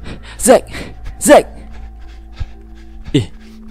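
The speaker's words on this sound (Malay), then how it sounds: "kenapalah diorang ni lari sampai termengah-mengah" People gasping and panting for breath after running, with a few loud, breathy heaving exhalations separated by pauses, close to the microphone and alone.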